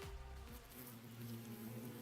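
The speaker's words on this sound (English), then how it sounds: "A huge swarm of bees appeared, gathering in the air above Adamakyu." A huge swarm of bees buzzes in the air in a video game, a dense droning hum with wavering pitch that holds steadily at moderate volume.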